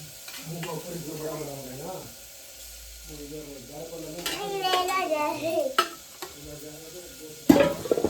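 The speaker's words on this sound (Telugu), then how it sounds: "కొద్దిగా ఆయిల్ వేసుకున్నాం ఒక ఐదు నిమిషాలు పచ్చిమిరకాయలు అయితే మగ్గనిస్తాను" Green chillies cook in a little oil in a pan, a soft steady sizzle that gets brighter partway through, with stirring scrapes and a sharp clatter near the end while a person talks over it.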